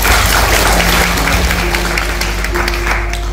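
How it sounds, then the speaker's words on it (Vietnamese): A hall audience at a health talk claps in a dense, continuous wash of applause, loud and close, with a faint steady hum running underneath. "Một tràng pháo tay cho hội trường của mình ạ."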